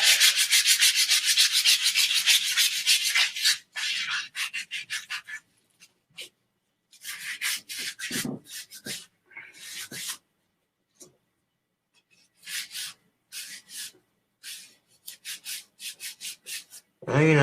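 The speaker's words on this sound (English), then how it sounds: "Do a smoother sanding for the wand." A carved wooden wand is hand-sanded to a smoother finish, giving bursts of close, dry rubbing and scratching strokes that stop and start with quiet gaps in between.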